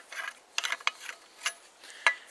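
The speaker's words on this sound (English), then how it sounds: "So I'm going to screw that off." Horizons Tec survival shovel head being unscrewed: a few short metallic clicks and ratcheting scrapes, close and fairly quiet, with pauses between them and no talking.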